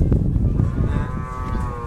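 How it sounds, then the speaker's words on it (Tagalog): Water buffalo (kalabaw) at a livestock sale, lined up before being loaded onto a truck, letting out a deep, drawn-out moo that sounds close and loud over a low background rumble. "O, yan na po ang ating mga kalabaw."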